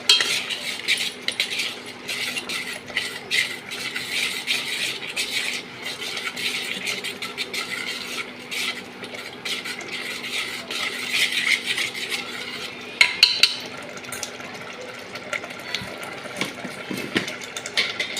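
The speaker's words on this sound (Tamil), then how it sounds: "கொஞ்சம் கருவேப்பிலை நல்லா கிண்டி விட்டுக்கோங்க" A utensil stirs curry leaves in a pan while making a Tamil-style fish curry, giving soft, continuous scraping and clinking with a few sharper metallic taps near the end, all at a fairly quiet level.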